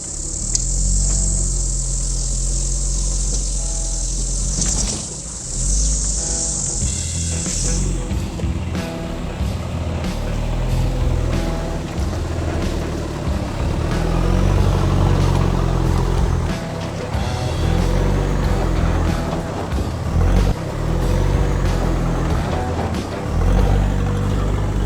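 A 4x4 truck's engine drones loud and close as it crawls up a steep, bumpy line, with a high insect-like whine in the first few seconds and knocks and rattles over the terrain.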